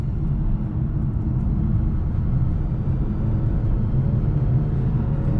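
Engine of a 2020 BMW 530i xDrive under hard acceleration, a steady deep rumble with rising drone heard from inside the cabin, continuous and moderately loud with no talking.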